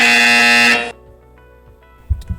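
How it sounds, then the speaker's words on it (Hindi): A quiz show buzzer, pressed first by a team, blares as a loud harsh electronic tone that cuts off sharply, leaving quieter studio sounds and a brief thump afterward. "टीम बी ने सबसे पहले बजर दबाया है।"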